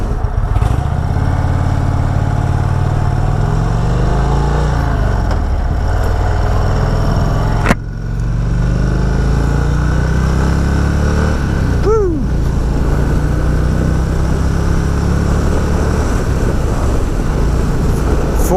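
An Indian Springfield Darkhorse motorcycle engine drones steadily while riding at highway speed in fourth gear, with rising and falling pitch from throttle changes under loud wind rush, close and constant throughout.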